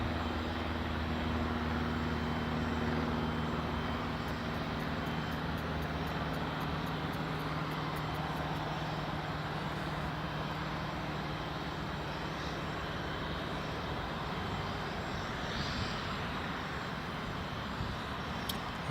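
An AgustaWestland AW109 helicopter taxis to the runway at Newcastle International Airport, heard as a continuous, fairly distant engine drone with low rumbling tones and a light rapid ticking for a few seconds, with no voices.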